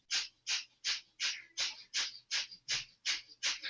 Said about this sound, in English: That's that short inhalation and exhalation out of the nose, like you're panting like a dog, but you do it through the nose.